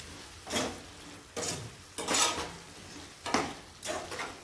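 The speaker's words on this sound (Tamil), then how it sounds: "கிரேவியில் போட்டுருவோம் நல்லா கலந்து விட்டுலாம்" Okra pieces being stirred into a simmering gravy in a pot, with several distinct bursts of scraping and sloshing spaced a second or so apart, close and fairly loud, with no talking.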